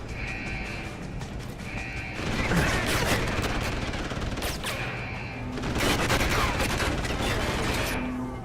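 Bursts of suppression gunfire crackle in quick, dense volleys in the shooter Deus Ex: Human Revolution, loud and recurring with short pauses, mixed with tonal game effects, no voices.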